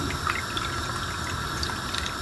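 Water pours steadily into a pot of kadhi curry with spinach, a continuous close splashing and gushing rush that holds an even level throughout.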